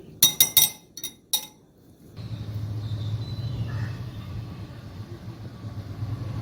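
Three eggs with salt, chili powder and turmeric are beaten in a bowl, giving a quick run of sharp metallic clinks up front, then a low background rumble for the rest.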